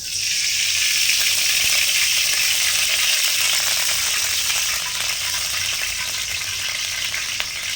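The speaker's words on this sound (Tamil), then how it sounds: "இப்போ வடசட்டி காய்ஞ்சிச்சு நம்ம எண்ணெய் ஊற்றிக்கலாம்" Oil is poured into a hot kadai for tomato rice, and a loud, steady sizzling hiss follows, continuous and close, with no voices.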